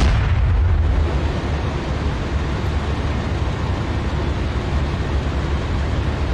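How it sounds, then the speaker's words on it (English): A Challenger 2 tank fires at the lower front hull of an Abrams in DCS World, a heavy deep rumbling blast that rolls on as a loud sustained low roar. "with a Challenger 2 shooting the lower part of the front hull of an Abrams"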